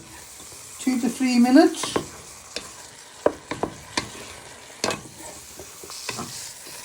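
Vegetables frying in a pan for a Chinese beef stir fry, a low sizzle with clattering stirring strokes of a spatula, close by, while someone talks over it.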